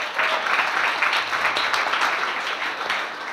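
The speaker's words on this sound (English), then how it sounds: "If I could have a round of applause for those two." Dinner guests at a chamber of commerce annual banquet clap together for the event sponsors, a steady, fairly loud round of applause filling the room and continuing evenly without pause.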